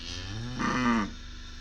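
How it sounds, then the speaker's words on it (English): A single low, drawn-out moo rises from a cow resting outside a family's door on a rural farm in Inner Mongolia, close and fairly soft against a faint ambient hum. "This family had a bunch of cows just chilling in front of their door."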